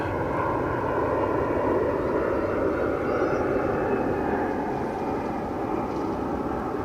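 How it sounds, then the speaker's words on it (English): A fixed-wing airliner at DFW Airport roars steadily with a low, broad jet engine rumble, loud and sustained throughout without any talk, the tone shifting slightly as the aircraft passes. "Get a good look at the aircraft."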